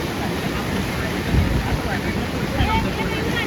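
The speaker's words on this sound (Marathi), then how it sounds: "नदीला पाणी दाखवतो तुम्हाला किती येते" Rushing floodwater of the swollen Ulhas river during heavy monsoon rain, a steady, loud roar of churning water with buffeting wind across the microphone that swells briefly around the middle.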